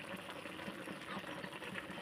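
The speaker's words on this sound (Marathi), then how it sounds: "तर इथे सरस्वतीची मॅगी शिजते" Maggi noodles with tomato, coriander and Maggi masala boiling in a pan on a home stove, giving a faint, steady bubbling hiss with soft irregular pops throughout.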